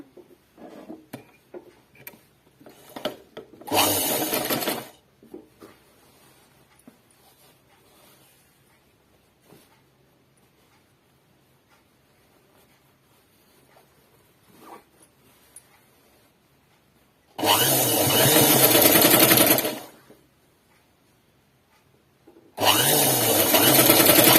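A sewing machine stitches a collar onto a dress neck in three bursts: one short run, a longer one a couple of seconds long and a final run. Quiet fabric handling and faint clicks fill the gaps between them.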